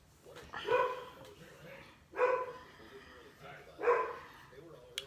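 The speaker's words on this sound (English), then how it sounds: "They will bark at any neighbor, any dog," Dogs indoors let out three loud, evenly spaced barks about a second and a half apart, with a quiet background in between.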